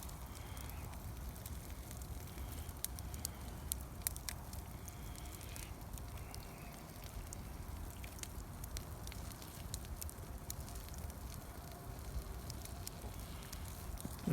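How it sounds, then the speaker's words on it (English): Small campfire fed with burning trash crackling softly, scattered pops and snaps over a low steady hiss, faint and continuous outdoors. "it's kind of turning into like a little cozy campfire now."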